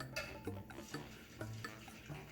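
Steady crackling sizzle of latke batter frying in hot oil, with soft clinks and scrapes of a utensil against the pan close by.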